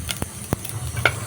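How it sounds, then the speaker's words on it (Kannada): Cumin seeds crackling in a hot pan for rasam, a soft sizzle broken by a few sharp isolated pops and crackles, close and fairly quiet. "ನಂತರದಲ್ಲಿ ಜೀರಿಗೆಯನ್ನು ಚಟಪಟ ಸಿಡಿಯುವ ರೀತಿ"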